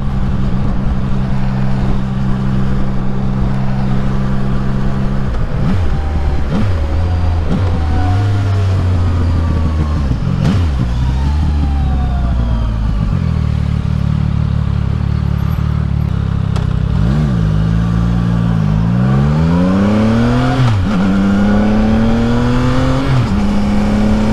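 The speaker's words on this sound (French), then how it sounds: "Le moteur est vraiment très agréable." A CF Moto 675 NK motorcycle engine, nearly new and still in break-in, drones loudly close by, rising and falling in pitch as it revs up and settles back down several times.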